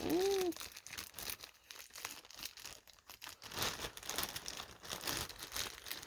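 A plastic bag holding bubble wrap is torn and wrestled open, giving a run of crinkling, crackling rustles in uneven bursts, close and moderately loud.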